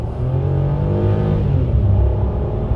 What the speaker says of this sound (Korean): 제가 한번 이렇게 급가속을 해볼 건데, 가속 성능이